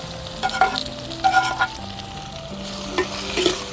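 Tomatoes and onions sautéing in a pan over a wood-fired village stove while mutton curry is prepared, a steady sizzle broken by a few louder stirring scrapes, close and without talk.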